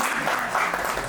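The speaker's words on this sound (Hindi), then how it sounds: "एक बार मैम की ये जोरदार तालियां।" An open mic audience claps loudly and continuously, a thick burst of applause from a crowd that carries on unbroken with no voices standing out.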